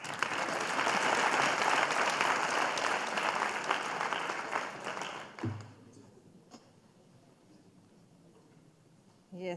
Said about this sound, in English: So you had better give a round of applause.